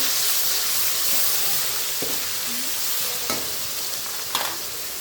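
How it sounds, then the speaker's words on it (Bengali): A little water hits frying onion and ginger-garlic paste, giving a close, steady hissing sizzle with stirring and a few sharp scraping clicks of a utensil against the pan, no voices. "এখন দিয়ে দিব সামান্য পানি,"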